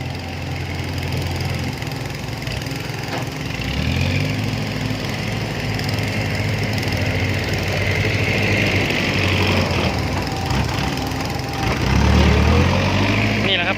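A heavy diesel tractor engine chugs steadily throughout, straining up a sticky dirt slope, its low rumble swelling a little toward the end, with people talking over it.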